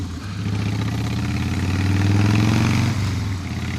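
A Harley Davidson Softail motorcycle engine idles up close, a loud, low, pulsing rumble that holds steady, swells slightly, then dips near the end.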